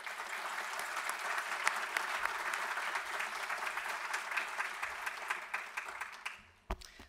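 Audience applause for National Marine Sanctuaries at the Capitol Hill Ocean Week opening keynote, a steady, full crowd clapping that holds for several seconds and then tapers off near the end.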